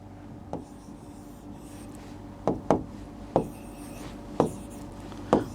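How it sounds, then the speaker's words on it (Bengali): Large letters are written on a board, producing soft scratching strokes punctuated by several crisp taps as the writing tool meets the surface, close and steady with no speech. "আমি আপনাদেরকে একটু বড় করে লিখে দেখাই।"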